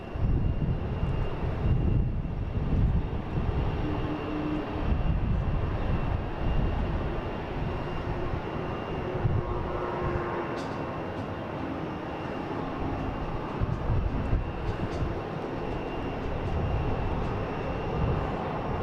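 A passenger airplane lands at Boston Logan International Airport, arriving from Cincinnati, its steady jet engine roar broad and continuous for the whole stretch, moderately loud with a slight swell midway.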